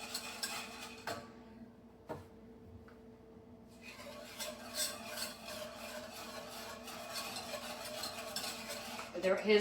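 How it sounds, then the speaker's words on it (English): Cake batter for a gluten-free Kentucky butter cake being mixed by hand, a steady scraping and stirring of a utensil against a bowl with light clinks, close and moderately quiet, with a brief pause early on. "I'm gonna mix this together."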